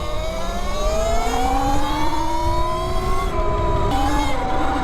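An E-Ride Pro SR electric motorbike whines under throttle, a steady rising electric motor tone with tyre and wind rush, loud and close throughout, pitch climbing then dipping slightly as the rider eases off.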